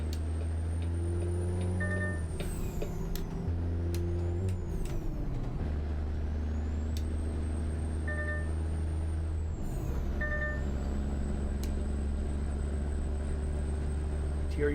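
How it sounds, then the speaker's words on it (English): Heavy truck diesel engine in American Truck Simulator, a loud steady low drone that shifts pitch with gear changes, with sharp air-brake hisses and faint beeps over it and no talking. "Man, I really like the sound of this engine."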